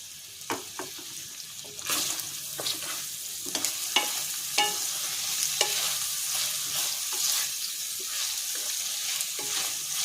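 Prawns sizzle steadily in a hot pan while a utensil scrapes and taps against it in irregular strokes, close and continuous.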